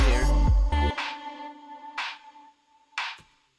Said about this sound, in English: Got a snare happening here.